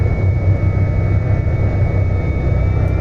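Steady low turboprop drone of a Carenado C208 Caravan taxiing in the X-Plane 11 flight simulator, a constant engine hum heard from inside the cockpit with no speech.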